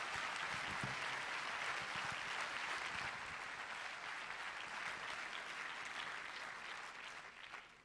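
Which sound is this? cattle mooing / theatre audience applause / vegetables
theatre audience applause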